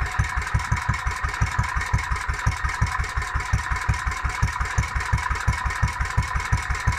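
A 1945 vintage milking machine engine runs steadily on its own, its low, even thumping beat pulsing about four times a second at close range with a constant mechanical drone above it.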